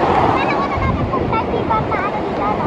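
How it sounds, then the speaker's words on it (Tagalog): Strong ocean waves surge and wash continuously, loud and close, with heavy wind buffeting the microphone; voices can be heard beneath the surf. "malakas ang alon!"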